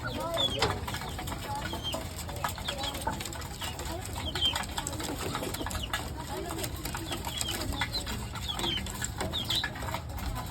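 A flock of pigeons coos and clucks continuously nearby, with occasional wing flutters and faint background voices.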